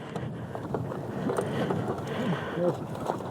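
Strong gusting wind in the Mojave Desert buffets the microphone with a constant broadband roar, a rider's voice briefly heard underneath near the end.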